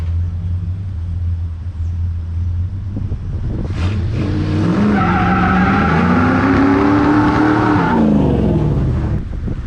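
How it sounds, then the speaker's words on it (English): A 1973 Ford F100 pickup does a burnout, its engine revving hard with rising and falling pitch while the tires squeal and spin; loud and close, with no talking. "Alright, that was the last burnout, I swear."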